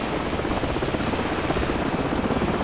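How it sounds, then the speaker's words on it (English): Helicopter in the video game Call of Duty 4: Modern Warfare, a steady loud rotor and engine roar with continuous chopping wash, close and unbroken throughout. "Hold on, the helicopter's back."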